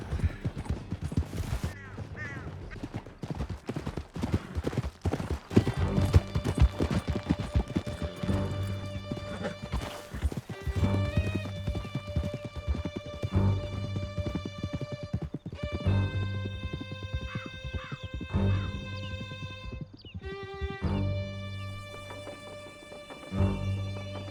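Horse galloping in the western game Red Dead Redemption 2, rapid close hoofbeats with neighs and whinnies over sustained tonal game music.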